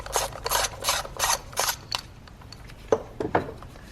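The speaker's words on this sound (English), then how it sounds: "we've got a size 10 bolt here to be loosened and removed so that the coil pack will come through" A ratchet wrench loosening a size 10 bolt on the ignition coil pack of a 2019 Kia Forte 2.0L engine, a close series of sharp metallic clicks in bursts, with no talk.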